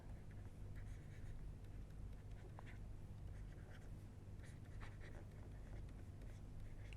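Lecturer writing on a board during a lecture: faint, scattered scratchy strokes over a low steady room hum, quiet and close.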